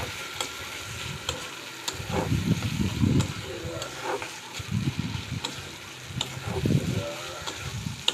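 Bombay duck (bombil) fish sautéing in a pan for a chutney, with a moderate sizzle under repeated low stirring thumps and spatula scrapes at an uneven rhythm.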